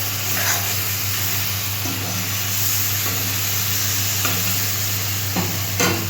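Spice paste for a magur fish curry being fried in a pan with a splash of water, producing a steady loud hiss over a low hum, with a spatula scraping through it every second or so.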